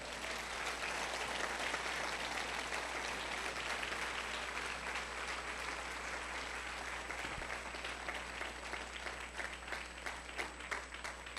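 Church congregation clapping together in a sustained round of applause, a thick, even roar of hands that continues steadily throughout, with a faint constant hum underneath.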